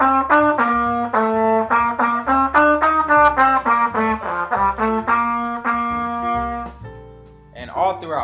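A trumpet played with a pinched, over-puckered embouchure, a run of short, bright, thin-toned notes in a quick bouncing rhythm, close and loud, ending with one sustained note and a brief scrape of breath.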